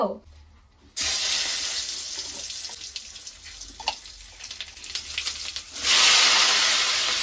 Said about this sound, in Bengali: তো দেখো তেজপাতার গোটা জিরে ফোড়ন দিলাম